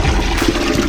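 Water rushing and splashing steadily as mud is washed out of a guppy fish tank, a dense close gush with no pauses.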